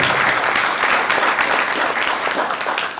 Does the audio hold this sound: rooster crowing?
no